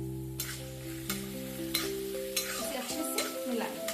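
Curry leaves, finely chopped ginger and garlic stirred in a hot pan for a soya 65 dish, a steady sizzle broken by repeated scraping strokes of the spoon, close and clear with no voices.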